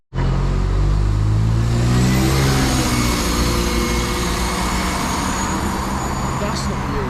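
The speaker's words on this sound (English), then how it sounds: "That's an Optare Solo 47132." An Optare Solo bus on a local service in Barrow-in-Furness runs its engine close and loud, a steady low drone that climbs in pitch as it pulls away and fills the whole stretch.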